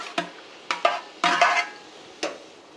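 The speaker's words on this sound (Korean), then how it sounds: "물이 막 끓고 있죠? 이럴 때 썰어놓은 오징어를 넣어주세요." Sliced squid goes into boiling water for blanching, heard as several short, close clinks and splashes of a pot and utensil against a quiet background.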